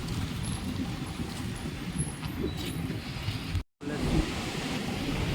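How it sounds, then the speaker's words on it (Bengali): A broad, steady roar of surf washes through, with wind rushing across the microphone and a brief dropout near the end. "ঢেউগুলো দেখো অসাম"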